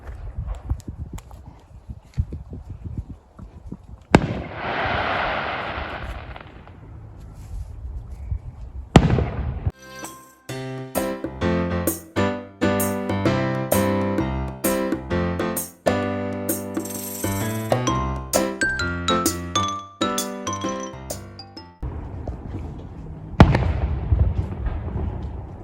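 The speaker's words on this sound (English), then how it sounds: "Did you see the fireworks, Nala?" Fireworks exploding on Canada Day near a beach: a dense, loud volley of rapid crackling bangs and pops, preceded and followed by a few scattered booms and hissing whooshes, with faint talk at the start.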